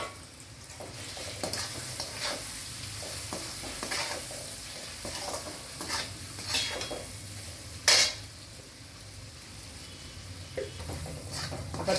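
Paneer masala sautés in a pan, a soft continuous sizzle under repeated scraping stirs of a utensil against the metal, with one sharp clatter partway through.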